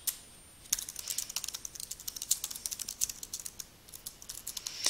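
Quick, steady typing on a computer keyboard, crisp close key clicks in an irregular stream with short pauses, heard alone without any talking.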